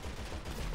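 A loud, dense burst of explosive crackle and booming rumble from a fuel tanker exploding in a video game, like a blast with debris, with no voices over it.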